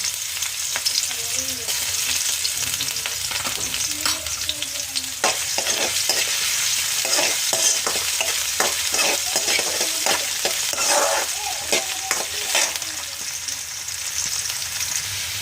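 Onion sizzles steadily in hot oil in a pan for a Nepali tarkari, with a spoon scraping and stirring in irregular strokes close up over the constant frying hiss.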